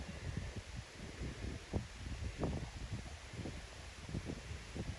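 Plants and leaves in a conservation area rustle and flutter as wind blows through them, a soft, steady outdoor hiss with scattered crackling gusts close to the microphone.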